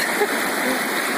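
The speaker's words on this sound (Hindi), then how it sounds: "पथरीली नदी है ये" A rocky, stony river flowing past in a constant hissing wash of water, steady and fairly close, with no breaks.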